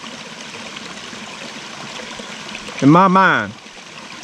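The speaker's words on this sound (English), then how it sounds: "there's more tranquil sound than that of the water flowing down the rocks" A mountain stream tumbles over rocks along an old wooded ridge, a steady close rushing and trickling that carries through the whole stretch, with a voice speaking briefly near the end.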